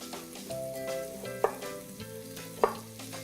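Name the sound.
bacon frying in a pan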